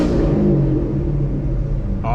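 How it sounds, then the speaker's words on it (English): Corvette C7 Stingray Z51 V8 engine, heard from the cabin with the windows lowered slightly, giving a deep, loud, steady rumble throughout that is briefly overlapped by a spoken voice near the end. "Let's give it a little rev."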